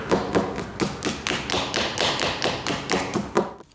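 Knuckle taps on a hollow spot under a finished wooden yacht table top, about a dozen quick, close, dull knocks in an uneven rhythm, alone with no talking.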